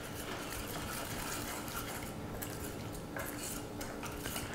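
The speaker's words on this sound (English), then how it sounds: "Just keep whisking it until all the butter is melted." Cold butter whisked into an orange juice beurre blanc for lobster, a steady close scraping and clinking of whisk against pan running continuously throughout with no talk.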